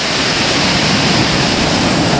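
Waves breaking along a rugged, rocky stretch of the Madeira coast beside a wet footpath, a steady loud roar of surf and spray filling the whole moment without pause.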